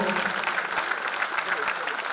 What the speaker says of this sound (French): nous vous invitons sous vos acclamations, s'il vous plaît